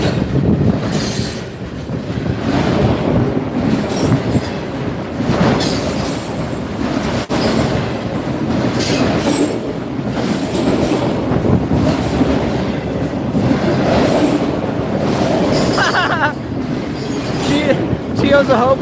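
A long freight train rolls past close by in a downtown area, with a loud continuous rumble, wheel clatter and squeals that go on for the whole stretch, and a voice speaks briefly underneath.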